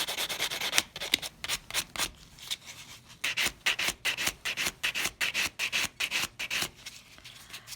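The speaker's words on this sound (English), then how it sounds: "I'm going to take my buffing block and I'm going to go over the surface of the nail" A buffing block rubs briskly over a sculptured acrylic nail surface, making a soft rasping scratch in quick, rhythmic back-and-forth strokes, close and fairly faint, with no talking.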